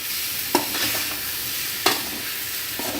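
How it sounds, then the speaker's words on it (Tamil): Tomato and shredded parotta sauté in a pan for egg kothu parotta under a steady, close sizzle, with a few sharp spatula scrapes against the pan. "இப்போது சேர்த்து நல்லா ஒரு 2 நிமிஷம் நல்லா வதக்கிக்கலாங்க"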